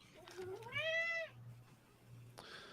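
A cat gives a single clear, drawn-out meow indoors during a casual home chat, fairly quiet, followed by a faint short sound, with a low steady hum underneath.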